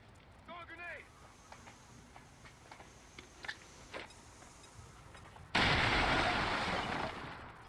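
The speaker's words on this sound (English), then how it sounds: "Throwing a grenade!" A grenade thrown in XCOM 2 goes off as a sudden loud blast near the end that slowly fades, preceded by quieter clicks and faint taps.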